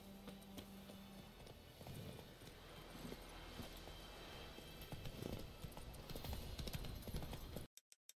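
Horse hooves clip-clop steadily in The Witcher 3, a quick regular rhythm of close, clear hoofbeats over ambient game sound before ending abruptly with a few isolated clicks.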